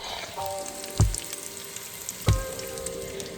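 Food sautéing in a home kitchen pan before cabbage goes in, a steady soft sizzle running throughout with two sharper clatters or pops standing out near and alone, no talking.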